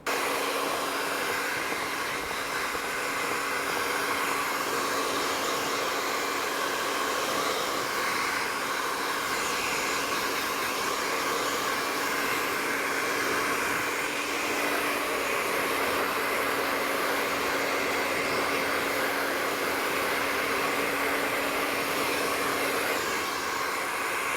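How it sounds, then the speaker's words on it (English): A hair dryer blows steadily throughout while hair is blow-dried after a fade haircut in a salon, a loud, even, continuous whoosh with a faint whine and no talking. "we're going to blow dry it, and then we'll see what the finished result looks like"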